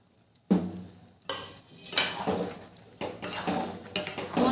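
Roasted ground spice powder being mixed into jujube pickle in a pot, with a few distinct scraping, clinking strokes of a utensil against the metal, close and fairly loud.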